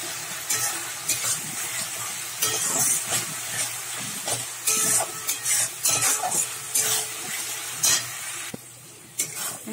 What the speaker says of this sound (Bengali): এবারে সব মশলাগুলো আমি ভালো করে কষে নেব